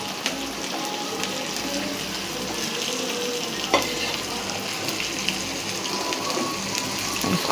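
Garlic and whole chillies frying in hot oil until light brown for moong dal makhni, a steady close crackling sizzle with faint stirring scrapes throughout, no talk.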